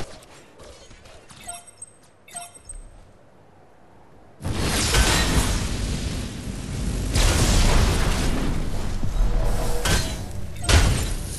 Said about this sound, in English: Enemy tower destroyed.